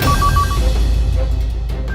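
A telephone rings in a home during a tense kidnapping drama, giving a few short, warbling electronic ring bursts at the start over a steady low background hum. The rings then fade out with no talk.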